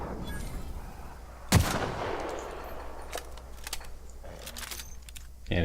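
A gun in Outer Worlds fires one loud, sharp shot in sneak mode, followed by quieter clicks and scattered faint shots over a low, hushed background.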